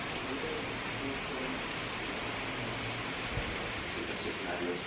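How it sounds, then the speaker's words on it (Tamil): Steady rain hisses in a broad, even wash of noise that stays constant throughout, with a faint thump partway through. "மழை."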